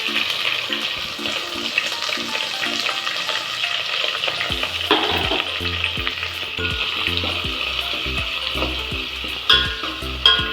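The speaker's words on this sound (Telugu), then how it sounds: "దాంట్లో కొంచెం జీలకర్ర వేస్తున్నాం, రొయ్య పొట్టు వేసేస్తున్నాం" Cumin seeds and dried prawns frying in hot oil in a pan, a steady close sizzle with stirring and occasional splashy bursts throughout.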